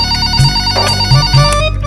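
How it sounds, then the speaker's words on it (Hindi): A telephone rings loudly in a home, its electronic ringtone repeating in short bursts with no voices over it. "अरे फोन बज रहा है, उठाओ ना।"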